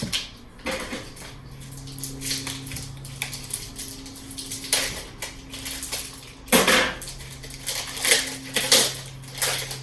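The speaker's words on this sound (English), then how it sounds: "let's get this cheese grated up" A block of Swiss cheese is grated by hand for a potato dish, giving irregular scraping bursts with clinks of metal and dishes in between, close by and with no talking.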